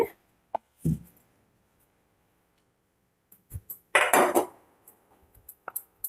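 Roasted chutney powder ingredients being mixed together, with sparse clinks and scraping of a utensil against a metal vessel, quiet gaps between them and a louder clattering burst midway, close and without talk.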